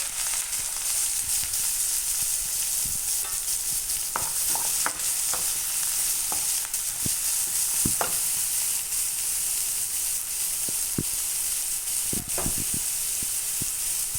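Finely chopped onions sizzle steadily in a hot pan while a spoon stirs them, with frequent scraping clicks over the continuous frying hiss.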